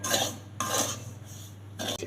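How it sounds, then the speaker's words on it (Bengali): A spoon scrapes through semolina frying in hot ghee in a pan, giving three soft scraping strokes with short pauses between them, faint and close with no talking. "এইভাবে নাড়তে হবে সব সময় যাতে সুজিটা পুড়ে না যায়"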